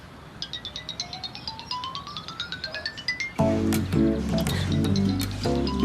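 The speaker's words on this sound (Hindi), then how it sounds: "पता नहीं किसका फोन आ रहा है।" A phone ringtone of rising, rhythmic chimes plays alone, then switches to a louder, fuller melodic tune.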